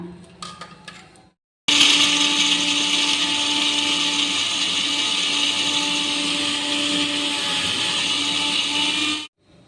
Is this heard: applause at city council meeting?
no